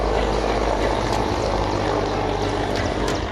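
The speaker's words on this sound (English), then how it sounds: "The chopper can be seen and heard roaring overhead" An Mi-17V5 military helicopter roars overhead near the Nilgiris mountains, a loud, steady rotor and engine drone with deep thumping low end throughout.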